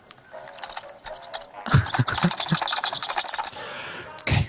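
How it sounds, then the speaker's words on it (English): Small objects rattling inside a game controller in Tearaway Unfolded, a busy run of quick clicking, scratchy rattles that swells and thins, with speech-like sound mixed in. "I think you can rattle them around."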